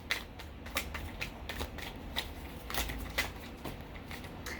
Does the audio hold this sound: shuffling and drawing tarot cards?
yes